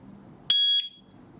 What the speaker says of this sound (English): wait for the record cue tone